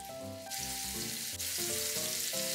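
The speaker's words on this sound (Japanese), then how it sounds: "油を入れてハンバーグを焼きます。" A hamburger patty made with oatmeal and tofu fries in oil in a frying pan, giving a steady, close crackling sizzle that continues throughout under soft background music.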